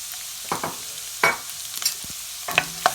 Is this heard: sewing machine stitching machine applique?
no